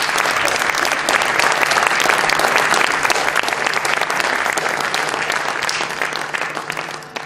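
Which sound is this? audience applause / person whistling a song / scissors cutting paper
audience applause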